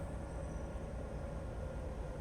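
A train in the Train Life railway simulator game slows to a stop on a freight run near Paris, giving a steady low rumbling drone with a faint high whine, continuous and distant-sounding, with no talk.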